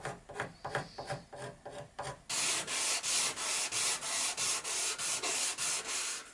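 Light hand sanding across a wooden elliptical tabletop: quicker, softer rubbing strokes at first, then a run of louder, steady back-and-forth strokes in an even rhythm, close up with no talking.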